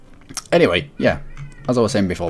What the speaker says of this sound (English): my cat shouting downstairs